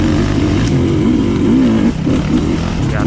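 A Sherco dirt bike engine drones loud and close, its buzzy note rising and falling with throttle changes before dipping briefly and picking up again.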